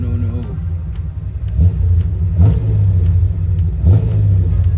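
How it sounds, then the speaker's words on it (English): A Nissan Skyline Hakosuka classic car engine rumbles loudly, rising in a few revs over a deep idling drone, close by. "Like revving a motor."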